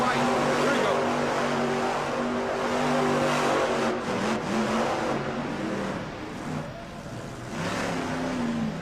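Broken monster truck at a Monster Jam freestyle event in Cardiff, Wales, its engine revving hard and droning loud as it launches into a donut, with steady roaring pitch shifts throughout and an announcer's voice running over it.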